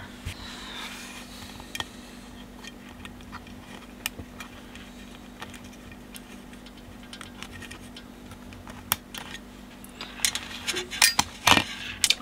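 A metal clip is pushed back into place on a 1970 BSR UA15SS record player under restoration. Small, faint metallic ticks and clicks sound close against a low hum and sharpen into a cluster of louder clicks near the end.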